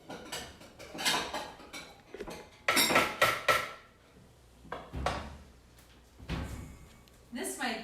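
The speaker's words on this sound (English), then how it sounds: "Then I'm going to go get some bowls." Bowls and dishes clatter as they are taken out of a home kitchen cupboard, with repeated loud knocks, clinks and a door or drawer bump, while people talk nearby.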